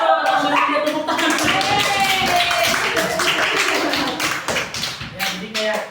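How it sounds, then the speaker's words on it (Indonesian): Students in a classroom clap their hands in a short burst of rapid taps during a micro-teaching lesson, with voices talking over and around the clapping throughout. "Langsung dia tepuk tangan."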